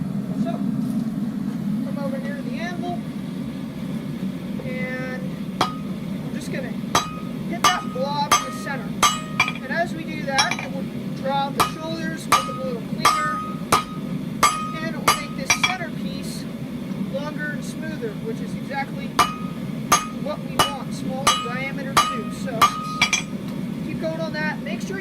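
Hammer blows ring sharply on steel over an anvil while hand forging a leaf, a series of bright metallic clangs spaced irregularly then in quicker runs, close and loud over a steady background hum, with some talking mixed in.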